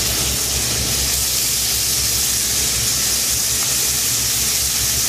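Unseasoned bacon sizzles in a pan with a steady, bright hiss that stays even and continuous throughout, with no voices.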